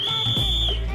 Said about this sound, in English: they blow a whistle to let everyone know when the queue is cleared